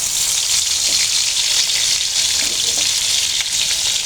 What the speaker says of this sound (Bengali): এখন আমি শুকনো মরিচ আর পেঁয়াজগুলো একটু ভেজে নেব ইলিশের তেলে